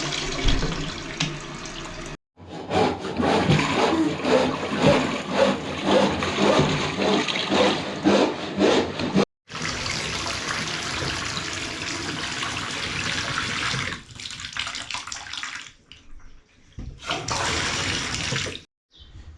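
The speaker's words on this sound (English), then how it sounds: "I just need to do a flush test on this now, turn the water on, make sure we've got no leaks" Newly installed toilet flushed for a test, a loud close rush of water that gurgles, briefly cuts out, then refills with running water and a couple of short pauses before trailing off, with no talking.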